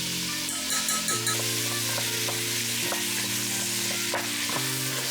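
Roughly chopped celery, onions and carrots sizzle steadily in a hot pan, a continuous close frying hiss with occasional stirring scrapes and no voices.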